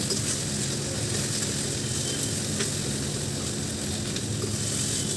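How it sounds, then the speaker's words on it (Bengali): Okra coated in cornflour and gram flour frying in a pan, an even, close sizzle with faint occasional stirring clicks, continuous and without talk. "এগুলো সব দিয়ে ভালো করে নাড়াচাড়া করে ভেজে নেব"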